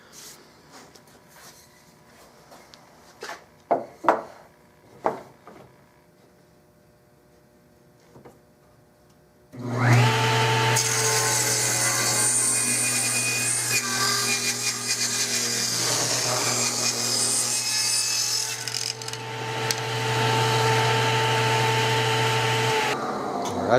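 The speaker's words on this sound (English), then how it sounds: "I'm going to turn this down on this forearm so the bottom of it will show." Wooden Winchester Model 21 shotgun forearm being turned down on a machine: a few light knocks and taps, then a loud, steady motor whine and cutting hiss that runs continuously to the end.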